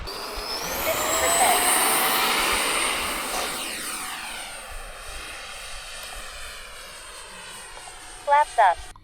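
A model airplane's engine drones loudly, its pitch sweeping as the plane passes and then fading into the distance over an open flying field, with a couple of short, sharp bursts near the end.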